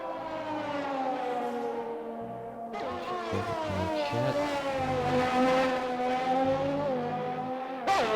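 In a racing video game at Bahrain, a race car's high engine whine rises and falls through gear changes, with tire squeal as it exits the final corner onto the pit straight. Loud and continuous, no talk.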